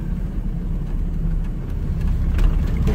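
A UAZ 2206 van's engine runs with a steady low rumble, close and continuous, with a little road or mechanical noise on top.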